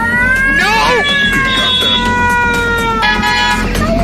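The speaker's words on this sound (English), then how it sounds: "It's a bad cat." A cat meows and caterwauls in long, drawn-out wailing cries, loud and close, with several rising and falling yowls running back to back.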